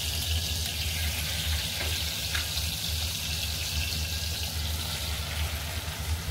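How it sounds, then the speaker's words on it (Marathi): Flour roasting in a pan for gul papdi gives a soft, steady sizzling and scraping hiss, close and even throughout, with no talk. "मी बाकीचंही पीठ भाजून घेते।"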